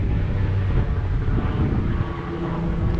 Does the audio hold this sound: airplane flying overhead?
yes